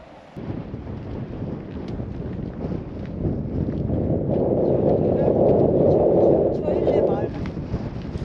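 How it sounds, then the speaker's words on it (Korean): Strong wind gusts through a Himalayan canyon on the Mustang trek between Kagbeni and Tsaile, loud rumbling buffets against the microphone that build and swell toward the middle. "바람이 너무 세게 불어서 걷기가 힘드네요"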